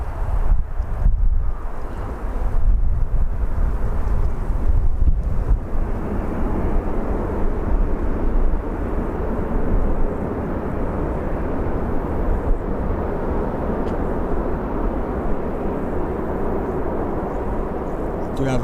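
Ryanair plane touching down at Birmingham Airport, a heavy low rumble buffeted by gusty wind noise on the microphone, loud at first and easing to a steadier roar.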